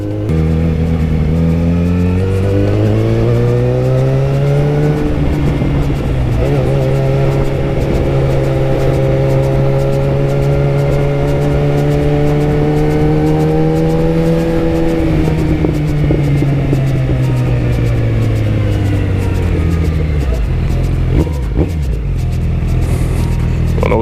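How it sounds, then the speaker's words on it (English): A single motorcycle engine hums steadily up close in early-morning Midtown traffic, its pitch rising and falling as it idles and revs, with no voices. "Traffic is starting to pick up. People are going to work."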